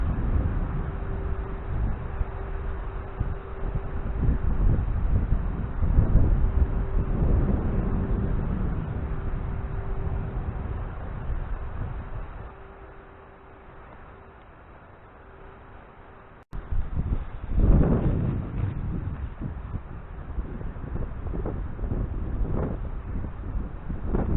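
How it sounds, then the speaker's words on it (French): Strong gusting wind buffets the microphone at a lakeside feeder-fishing spot, a dense low roar that swells, eases to a calmer stretch, then surges again after a brief cut, with no voices. "il s'est levé un vent terrible"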